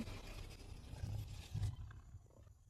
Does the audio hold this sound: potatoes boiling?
no